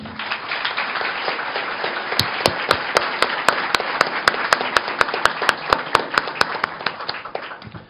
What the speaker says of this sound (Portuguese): Queria pedir palmas para Ricardo Fiuza.